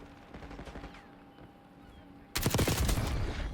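Kilo rifle fire in the shooter Black Ops 6, a sudden loud burst of rapid automatic shots starting partway in and continuing to the end, after quieter game ambience.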